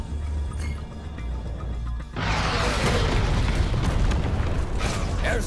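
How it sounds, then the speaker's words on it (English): Airstrike explosions in Tom Clancy's Elite Squad erupt after a low rumbling lull, a sudden loud burst of booming blasts followed by sustained crackling debris and rumble. "Airstrike."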